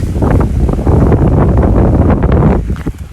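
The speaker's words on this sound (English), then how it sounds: "there is a little bit of wind" Strong wind buffeting the microphone outdoors on an open moor with a river running nearby, a loud, blustery rumble that surges and dips without pause.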